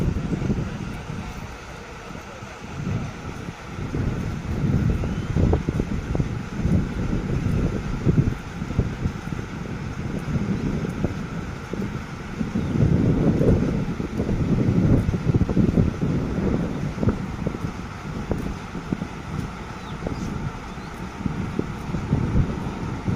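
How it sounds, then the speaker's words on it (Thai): Strong wind outdoors, a continuous heavy rumbling roar buffeting the microphone, surging and easing over the whole stretch without any voices. "โอ้ยลมแรงมากเลยครับ"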